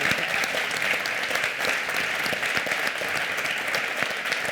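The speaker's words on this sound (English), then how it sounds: "let's give a round of applause to those who are up here and those who are in the seats" An audience at a 2014 Atlantic Dialogues panel on demographic change gives a steady, dense round of applause, sustained and even in loudness across the whole stretch with no talking over it.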